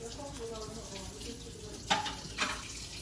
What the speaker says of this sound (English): Oh, lost my spoon. Gotta wash that now.